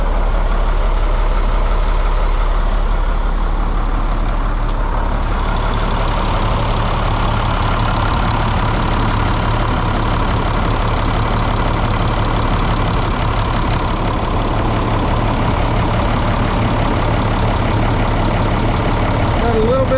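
A 1998 International 4700 truck with a DT466e diesel engine idling, a loud, steady low rumble close by that holds for the whole stretch, with someone talking over it.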